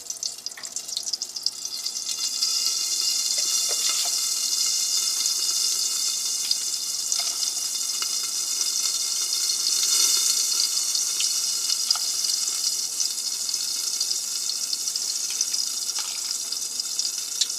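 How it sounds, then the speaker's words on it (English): Broth pours steadily into a pot of rice, a continuous close hiss and splash with faint sizzling and a few small clinks, lasting the whole stretch. "We're going to use broth to make our rice taste good."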